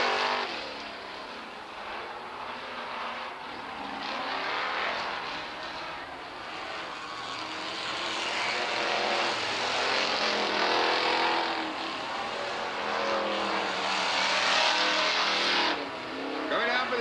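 Race cars on the final lap at Southern Oregon Speedway, their engines roaring past and swelling and fading in a steady, fairly distant drone of the track.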